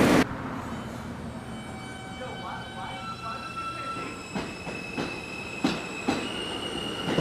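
A Manhattan-bound N subway train in New York rumbling along the track with steady wheel noise, squealing tones and a few sharp clanks; faint voices in the car.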